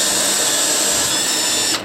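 A power drill bores holes into fiber concrete board with a steady, loud, high-pitched whine that holds without a break and cuts off abruptly at the end.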